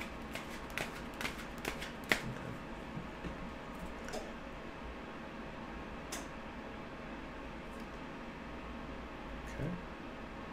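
Tarot cards being shuffled by hand, a steady soft riffling with occasional crisp snaps, fairly quiet and close, with no voices.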